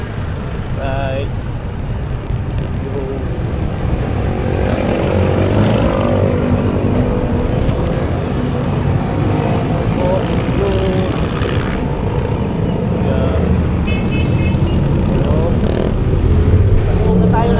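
Engine drone and road rumble from a motorcycle being ridden, with wind buffeting and traffic around, steady and continuous throughout with brief faint speech in the background.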